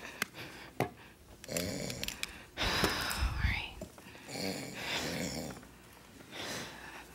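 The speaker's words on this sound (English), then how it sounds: "Why are you snoring?" Snoring from a performer during a church stage play, heard in a hall among breathy, snorting sounds, with people talking over it in parts.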